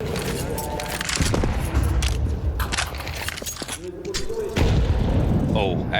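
Gunfire and a grenade blast in a professional Counter-Strike match, with sharp shots and booming bursts crowding the clip while a commentator talks excitedly over them.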